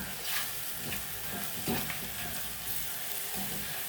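Onions and spices sautéing in a pan, a steady close sizzle with irregular scraping and stirring strokes throughout, no voices.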